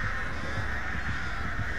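Crows cawing in the video game Dead by Daylight, with a dense, continuous cawing chorus that sounds close and fairly loud throughout.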